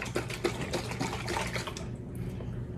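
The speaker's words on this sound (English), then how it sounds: "I've just filled this up with water. Shake to get the rest." Water sloshes and splashes inside a freshly filled bottle as it is shaken, a close, quick series of rattling liquid bursts that fades into quieter dripping.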